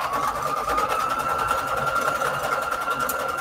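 A sewing machine runs steadily, stitching fabric onto index cards with a continuous, close, even motor whir and fast needle chatter throughout, no voices.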